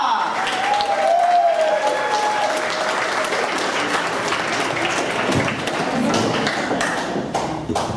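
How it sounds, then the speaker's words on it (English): Audience at a Johnny Cash tribute show held in a classic car museum applauding, a sustained full round of clapping with a whistle or tone rising early on and voices mingled in the crowd. "Give him a big round of applause."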